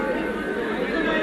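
Jamaican supporters at an under-19 rugby match in Jamaica against Trinidad and Tobago, heard as a dense, continuous crowd murmur and chatter.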